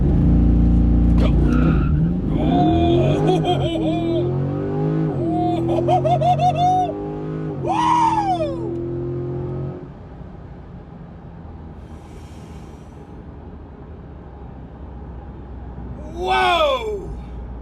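Car accelerating hard off the line with launch control, engine revs rising and dropping through quick gear changes with brief tire noise, then fading to a quieter idle; voices are heard in the car.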